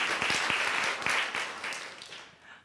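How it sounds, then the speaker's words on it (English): A live podcast audience claps in a warm burst of applause, many hands patting together in a thick, even wash that swells and then fades out toward the end. "Excellent applause"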